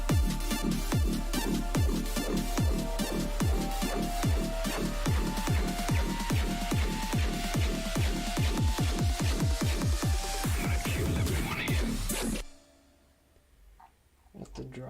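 A dubstep build plays loud and steady for about twelve seconds, with a regular pounding kick, rising risers and growling synth layers fading in, then cuts off abruptly to near silence.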